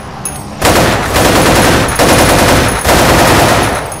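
CM8 automatic rifle fire in the zombie mode of the online shooter Warrock, rapid sustained bursts in three long strings with short breaks, loud and close with no talk.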